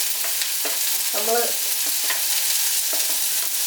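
Onions fry in oil in a pan for pomegranate thoran over a medium flame, giving a dense, loud, steady sizzle with occasional stirring clicks, close up and without speech.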